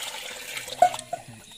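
Water scooped up by hand for soaking rice ahead of making kuzhimanthi, a short splash and slosh close by over a low background hum, with a brief second slosh a moment later.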